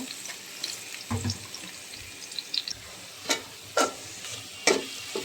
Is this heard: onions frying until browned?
yes